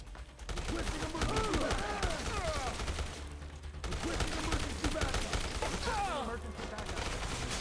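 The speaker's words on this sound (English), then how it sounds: "Give me the machine gun." Rapid machine-gun fire in the video game Dead Rising rattles in dense, continuous bursts with a short pause midway, loud and close, mixed with other game sounds and voices.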